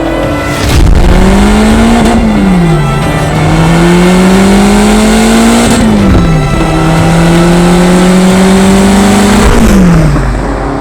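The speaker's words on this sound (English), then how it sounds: "that's the Lotus Esprit" Loud, close engine note of a Lotus Esprit V8 mid-engined car under acceleration, the pitch rising through each gear and dropping abruptly at shifts, repeating in a steady cycle for the whole stretch.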